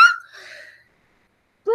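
A single short sneeze at the start, close and fairly loud, trailing off into a breathy tail before a voice begins at the end.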